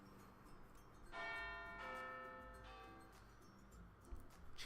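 A school bell rings in a video game classroom, a bright sustained metallic tone with lingering overtones that swells, holds for a couple of seconds, then fades under faint background noise.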